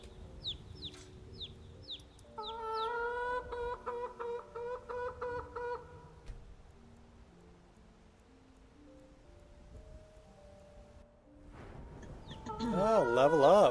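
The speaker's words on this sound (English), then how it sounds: "And then we find that loud bird and kill it." A chicken in the video game Skyrim clucks in quick bursts, joined by a rooster-like crow near the end, over soft game ambience and gentle music tones.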